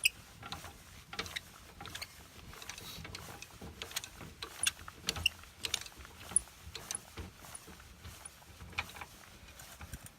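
A hand crank lowers a tent trailer's stabilizer jack, giving a steady stream of quiet mechanical clicks and ratcheting taps turned out at an even, slow pace, close by and with no talk.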